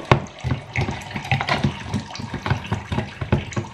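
Water poured from a tap or into a glass at home, a close splashing and gurgling stream with irregular bursts, steady and fairly loud with no talking.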